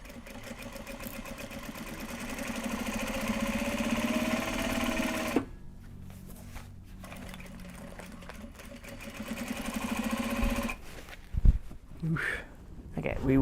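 A sewing machine runs in bursts while stitching traveller slings from upcycled Japanese obi and kimono fabric. It whirs steadily for several seconds, pauses, then starts again. Near the end come short stops and clicks.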